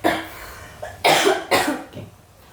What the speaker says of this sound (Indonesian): saya batuk dulu bentar ya